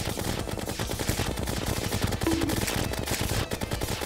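Smart-weapon gunfire in the video game Terraria rattles out as a rapid, continuous stream of loud, evenly spaced shots lasting the whole stretch, with no voices over it.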